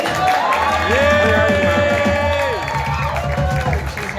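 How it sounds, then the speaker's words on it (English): Studio audience at a comedy show cheers and applauds for a comedian's mother, a loud, steady crowd roar with claps and a shouted cheer from one voice lasting throughout. "we should give a round of applause for my mom"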